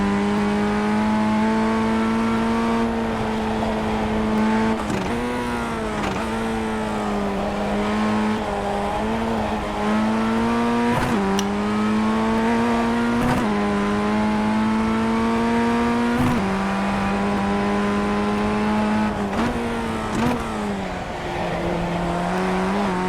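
A race car in the iRacing sim racing game holds a loud, continuous engine drone, with its pitch repeatedly dropping and climbing again through gear changes over a long lap, with no voices.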